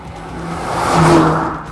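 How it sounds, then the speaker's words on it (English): A Mercedes-Benz CLA 45 AMG's four-cylinder engine with a big single turbo revs in a loud, steady drone that swells to a peak near the middle and eases slightly. "This is a 4-cylinder engine with a big single turbo on it"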